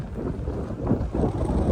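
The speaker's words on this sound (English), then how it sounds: "It's cold and windy out here." Cold wind gusts outdoors in the Boundary Waters canoe country, a loud, rumbling roar buffeting the microphone that swells slightly toward the end.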